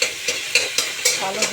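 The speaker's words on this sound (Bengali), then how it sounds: "ফোড়ন দিলাম" Whole spices tempering in hot oil in a home kitchen pan: quick hissing sizzle with rhythmic bursts of stirring scrapes, close and fairly loud, no talk.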